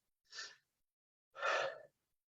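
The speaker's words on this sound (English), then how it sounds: "Close your eyes and take a deep breath." A single person takes a deep breath: a short soft inhale, a pause, then a longer, fuller breathy exhale, close and quiet with no other sound around it.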